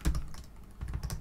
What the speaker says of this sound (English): so let's type the file name